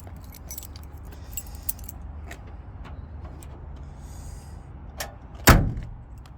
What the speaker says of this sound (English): I'll try to show you that you can hear the doors close nice and tight.